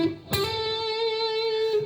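Electric guitar plays the opening riff of a song. A picked attack is followed by a bright, sustained, slightly effected note that rings on steadily and alone, with no speech.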